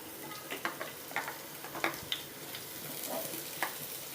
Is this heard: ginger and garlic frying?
yes